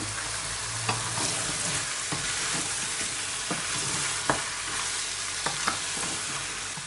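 Homemade summer tomato sauce goes into leeks frying in a pan for a zucchini-leek dish, a steady close sizzle with scattered sharp clicks of a spoon stirring, no voices.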